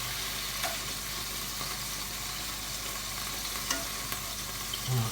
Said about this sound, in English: next I'm going to put in my onions